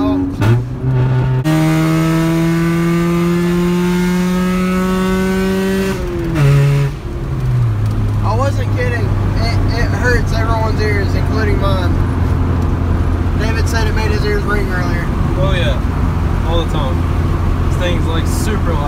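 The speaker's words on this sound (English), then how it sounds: "It's just a straight pipe Honda" A straight-piped Honda car engine revs hard and very loudly up close, pitch climbing in long pulls, dropping, then settling into a steady loud drone, with people talking over it.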